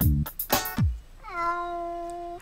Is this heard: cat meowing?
yes